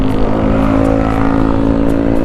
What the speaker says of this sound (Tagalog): Ingay ng motor nun